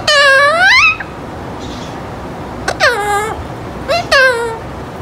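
Alexandrine parrot imitating a cat's meow, three drawn-out, rising-then-falling meow-like calls, close and loud, with quiet pauses between them.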